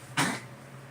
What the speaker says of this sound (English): Y'all have to pardon my little dog. She's coughing.